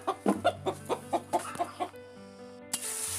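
A local chicken, caught and held, clucks in a quick run of about eight short, close pulses before going quiet over a low steady hum, with a brief rustle near the end.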